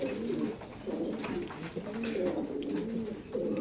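Racing pigeons at a loft coo in soft, repeated throaty phrases, several rolling calls in a row, fairly close but quiet, over faint background noise.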